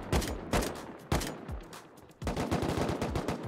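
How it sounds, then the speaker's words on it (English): Gunfire in the survival game Rust, with a few sharp separate shots followed by a longer dense burst of rapid shots that sounds loud and close, with no talking. "I'm just shooting. Just shooting randomly."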